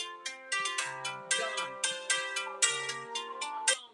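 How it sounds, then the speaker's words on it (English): A phone ringtone chimes in a quick, steady melodic pattern of bright repeated tones, fairly close and clear, running alone for a few seconds with no talk over it. "my phone rang and it probably froze me"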